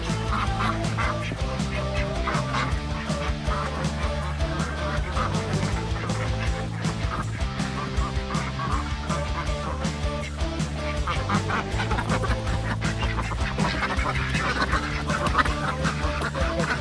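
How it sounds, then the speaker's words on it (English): Pet ducks quack and honk in a winter chicken run, a dense, continuous chorus of loud nearby calls that keeps going throughout. "Here are the duckies."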